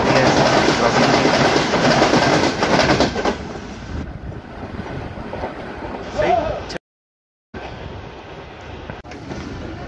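A fast train hauled by an SBU-20 locomotive passes Gujar Khan railway station in Pakistan, a loud continuous rumble and rush that fades after a few seconds, with a brief gap and quieter rail noise afterward.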